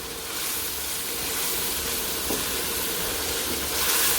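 Chicken coated in spices sizzles and hisses steadily in a hot pan while being roasted for chicken chana pulao, close and continuous with brief stirring scrapes.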